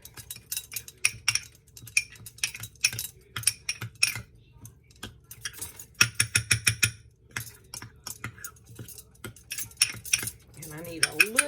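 A tablespoon stirs a mixture after water is added, giving a string of quick metallic clinks and taps against a bowl, with a dense burst of rapid strikes in the middle, close and moderately loud.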